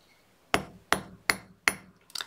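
A hammer gives four evenly spaced soft taps on wire for making DIY earring hooks, followed by a quicker double tap, close up and with no talking.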